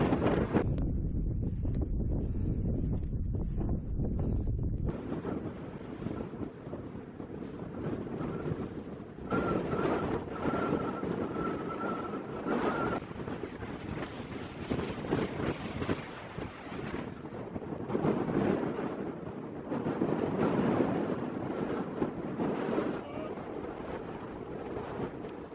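Strong winter wind on Dartmoor moorland buffets the microphone in a steady low roar with gusty surges, and no voices cut through.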